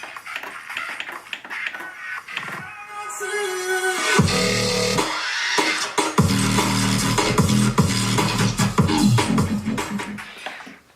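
A dubstep drop plays after a sparse, quieter intro: heavy bass and wide, dense synth layers slam in around the middle and keep pounding loudly to the end, with a brief gap partway through.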